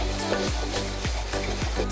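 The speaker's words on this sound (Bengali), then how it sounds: "চালটা দিয়ে সুন্দর করে এই মশলার সাথে কষিয়ে নিন।" Rice being fried and stirred with spices in a pan for vegetarian bhuna khichuri, a steady close sizzle with regular scraping strokes of the spoon.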